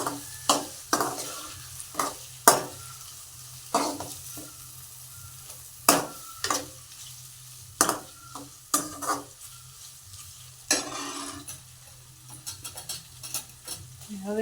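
Potatoes sizzle steadily in a hot pan while a spoon scrapes and stirs them in repeated sharp strokes, loud and close over the constant frying hiss.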